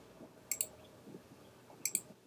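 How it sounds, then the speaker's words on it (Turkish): Keys on a computer keyboard are pressed for a Command A shortcut, giving two quick pairs of sharp clicks about a second and a half apart over faint room hiss. "klavyemden Command A tuşlarına basıyorum"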